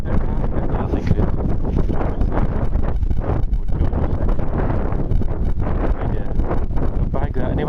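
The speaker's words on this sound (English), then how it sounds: "You can hear me alright with wind. It's very windy today." Strong wind buffets the microphone outdoors on a farm field during metal detecting, a continuous loud roar and rumble with gusty fluctuations throughout.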